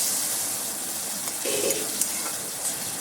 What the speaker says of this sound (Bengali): তো কিছুক্ষণ নাড়াচাড়া করে মশলাটাকে একটু কষে নেব